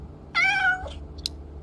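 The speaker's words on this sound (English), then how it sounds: "Feed the cat again," In the Road to Vostok video game, a cat lets out one clear, close meow, followed by a couple of small clicks in an otherwise quiet scene.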